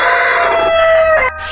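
A rooster crows in one long, loud, sustained call close by, its strained tone holding steady before breaking off, followed by a brief cluck or rustle at the end.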